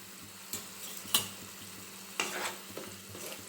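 Spice masala of turmeric, salt and chilli powder frying in oil in a pan while being stirred, a steady low sizzle broken by a few sharp scraping strokes of the spoon, close and alone.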